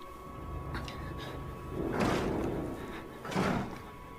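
In the horror video game Outlast, someone bangs on a door, two heavy thuds a second or so apart over a low hum and ambient room tone.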